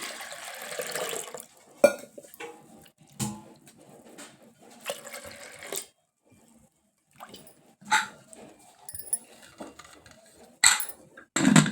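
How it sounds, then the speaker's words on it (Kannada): Chana dal is rinsed and fresh water poured into a pressure cooker, heard as intermittent splashing and pot clatter in short bursts, with a dog barking now and then and brief quiet gaps. "ಮತ್ತೊಮ್ಮೆ ತೊಳೆದೀನಿ ಈಗ ಸಿಹಿ ನೀರು ಹಾಕಿ ಎರಡು ಸೀಟಿ ಕುದಿಯಾಕಿಡ್ತೀನಿ"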